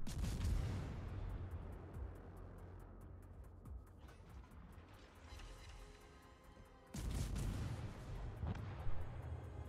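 Naval guns boom in the World of Warships video game as a North Carolina battleship fires on a Riga, with heavy blasts near the start and again about two-thirds through, rumbling explosions fading between them.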